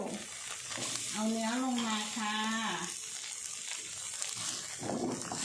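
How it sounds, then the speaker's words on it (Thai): Coconut milk is stir-fried over low heat in a pan for a Thai beef and pumpkin curry. It makes a soft, steady sizzle with light stirring scrapes, and a voice speaks over part of it. "เติมกะทิลงไปนิดนึงนะคะ จะผัดให้หอมเหมือนเดิม ไฟอ่อนหน่อยนะคะ"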